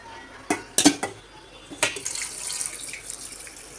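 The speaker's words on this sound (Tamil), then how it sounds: "மஞ்சத்தூள் போட்டு நன்றாக கழுவி எடுக்கவும்." Fish being rinsed with turmeric under a running tap in a sink, with a few sharp knocks and splashes early on, then a steady faint trickle of water.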